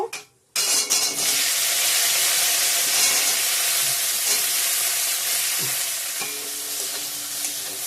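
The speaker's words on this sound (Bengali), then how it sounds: "এখন ভেন্ডি ভাজাটা করে নিব" Okra (bhindi) frying in a pan, a loud sustained sizzle that starts abruptly after a brief quiet moment, with occasional stirring clicks and scrapes throughout.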